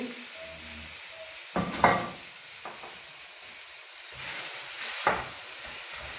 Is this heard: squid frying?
yes